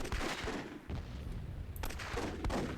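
Grenade explosions in the real-time tactics game Myth II: Soulblighter, heard as a dense run of sharp booming bursts with a crackling tail and a second cluster near the end, loud and continuous with no talk.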